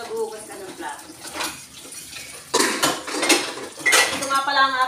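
Dishes and cutlery are washed by hand, with clinking plates and rattling silverware under running water, irregular bursts close by, and a voice talking at times.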